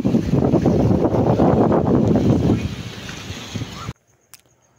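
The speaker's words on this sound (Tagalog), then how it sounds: "ang lakas na lang na ng hangin" Strong wind buffeting a microphone at a seaside baywalk, a loud rumbling roar that fades midway and cuts off abruptly near the end.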